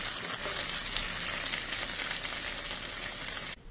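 Chicken barbecue pieces cook down in their sauce in a pan, a loud continuous close sizzle and bubbling hiss that cuts off abruptly near the end.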